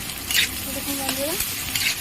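Masala Maggi ingredients frying in a pan, a close, continuous sizzle with occasional stirring scrapes, and no speech over it.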